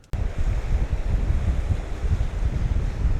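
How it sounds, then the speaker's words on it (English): Strong gale-force wind roars steadily at the coast in Busselton, Western Australia, with surf washing against a small jetty, a continuous loud rumbling buffeting throughout with no talk. "it's blowing a gale"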